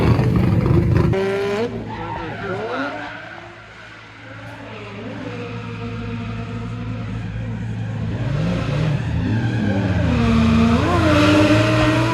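A race car does a tire burnout in a burnout box at a drifting event, with a sustained loud engine roar and a continuous screeching tire squeal rising and falling in pitch close by.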